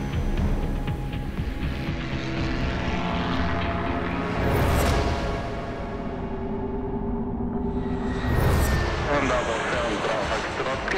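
A propeller airplane drones steadily in flight through stormy, dark skies, with a loud continuous engine hum that rises in two whooshing swells, while someone talks over it.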